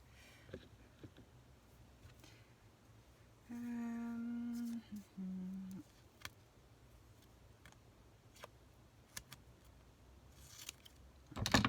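Double-sided tape is cut straight with scissors while assembling a paper box, a brief close tonal snip and tape sound in the middle, surrounded by faint handling ticks in a quiet room.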